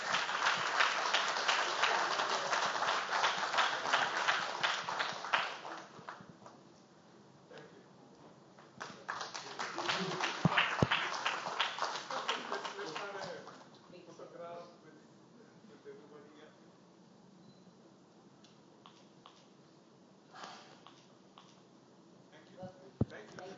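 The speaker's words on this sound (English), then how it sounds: "Let's give a huge round of applause for them" Bursts of audience clapping at a tech conference, two loud waves of applause separated by quieter stretches with a voice speaking over a sound system in between.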